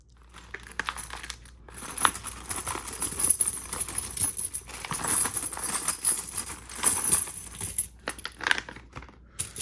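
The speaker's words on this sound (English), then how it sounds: "I know there wasn't a lot of sound of the silver dumping out." Old constitutional junk silver coins are poured out in a long metallic jangle, with clinking and rattling that swell and fade in bursts, close and moderately loud.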